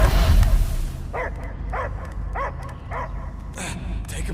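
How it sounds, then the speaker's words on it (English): In the Guardians of the Galaxy video game, a dog gives a series of about six short, evenly spaced barks and yips over a heavy rumbling game soundscape, following a brief burst of louder noise at the start. "I hear only barking"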